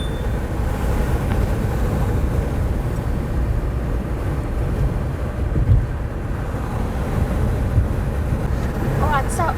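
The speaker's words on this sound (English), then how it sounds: "there's a bit of a wind blowing here today" Wind roars and rumbles steadily at a botanical garden in Caledon, tall trees swaying, a dense low rush buffeting the microphone, loud and constant across the whole stretch, with faint voices beneath it.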